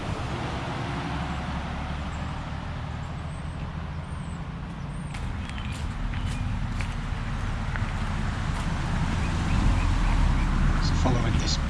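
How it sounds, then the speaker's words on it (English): Road traffic on a bypass, heard from a footpath alongside it as a steady, broadband roar that builds slightly, distant and continuous rather than separate passing vehicles. "you can't see it anymore, although you can still hear the traffic"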